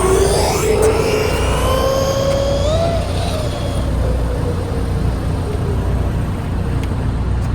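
Arrma Quake RC car making a full-speed pass, a loud high motor whine rising in pitch then sweeping down as it passes, over steady wind and road noise.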